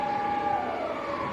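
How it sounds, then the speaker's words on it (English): A fire alarm test siren sounds from the far side of Leeds Bradford Airport, a steady distant wail holding one pitch throughout with no talk over it. "That is a fire alarm test on the other side of the airport."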